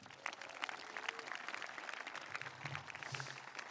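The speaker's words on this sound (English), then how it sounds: "Let's give everyone one more round of applause." Scattered, moderately faint applause from an audience at a high school graduation ceremony, irregular claps spread through a large room with a faint voice briefly underneath.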